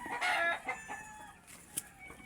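Chickens cluck and a rooster crows on a farm where calamansi is gathered, the crow loud at the start, followed by scattered softer clucks.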